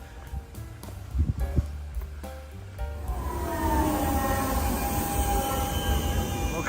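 A tram in Nuremberg, Germany rolls along the rails, a rising wheel screech and steady rumble building after quieter clatter at the start, fairly close, with no talk.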